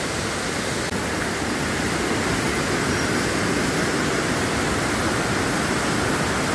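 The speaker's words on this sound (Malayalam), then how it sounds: "ഉപ്പുപള്ളിയിലെ ഒഴിവൻകുത്ത് വെള്ളച്ചാട്ടം" The Ozhivankuthu waterfall at Uppupally, Idukki, Kerala, roars in a constant, dense rush of falling water, loud and unbroken throughout.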